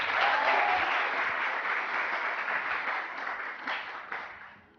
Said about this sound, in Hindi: तालियां क्यों बंद हो गई भाई?